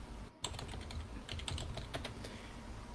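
Keys clatter in quick irregular bursts as someone types on a computer keyboard, close and fairly quiet with no talk.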